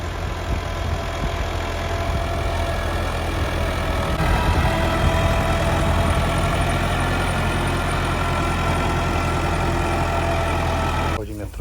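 A tractor engine idles steadily for the whole stretch, a constant low rumble with a faint higher whine on top and no pauses.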